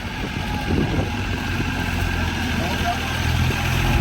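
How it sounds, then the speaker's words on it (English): A tractor hauling a load of gravel approaches across an RV lot, its engine a steady low rumble mid-distance, holding at an even, moderate loudness throughout with no talk over it. "I hear Eric coming with the tractor, with my gravel."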